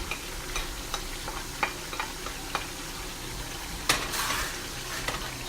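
Garlic sizzles in a pan with sautéed cabbage and ground beef, a steady frying hiss broken by scattered stirring clicks and a sharper scrape of utensil against the pan.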